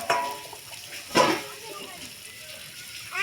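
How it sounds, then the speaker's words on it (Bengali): A mug of water is poured into a pan of prawn and pointed gourd curry, making a short splashing gush amid light kitchen clatter while someone speaks. "1 মগ জল দিয়ে দিলাম।"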